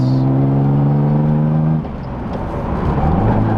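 A Nissan Z sports car drives steadily with a loud engine drone, then the pitch drops as it shifts and the revs climb again, heard from inside the cabin.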